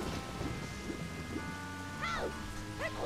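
Rain patters steadily in a video game while low thunder rumbles underneath, joined by a few whistling, chirp-like tones and faint background hums; no one speaks.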